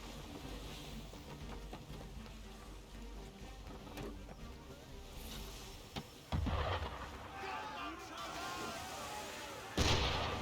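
In Assassin's Creed 3, an enemy ship fires cannons at the player's sailing ship out on open water, with several booming shots over a constant wash of waves and sea noise and talk mixed in.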